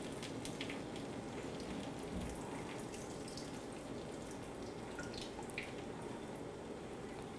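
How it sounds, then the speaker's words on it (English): Fat and grease from cooked taco meat drain through a strainer with a soft, steady trickling and dripping of liquid, faint and continuous throughout. "I'm going to take my strainer and I'm just gonna strain some of this fat and grease off"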